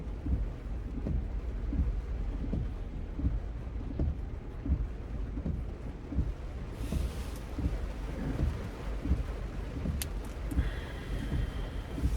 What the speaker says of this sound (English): Oh my God, this rain.